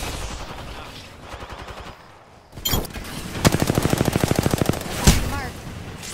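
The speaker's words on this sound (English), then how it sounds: "that's another squad shooting at us" Enemy squad gunfire in the Apex Legends video game, with rapid automatic bursts rattling in a fast steady stream alongside a few heavier single shots, loud and close in the mix.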